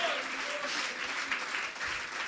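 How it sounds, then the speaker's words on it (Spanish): A church congregation applauds at a Spanish-language service, giving a dense, steady wash of clapping that fills the room evenly at moderate loudness, with no voices on top. "Dale un aplauso al Señor."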